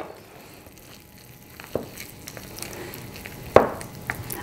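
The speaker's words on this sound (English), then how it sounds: "I'm going to take the cream cheese potatoes out and give them a quick stir" Cream cheese mashed potatoes are stirred in a bowl, giving soft, wet squishing and scraping sounds in a few uneven strokes, with one sharper knock partway through, close up and fairly quiet.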